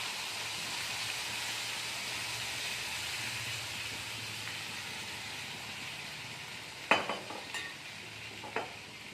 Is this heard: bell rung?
no